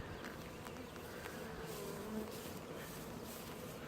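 Honeybees buzz steadily around an opened hive box as the brood box is lifted off during a hive inspection. The hum is even and fairly soft, with no talking.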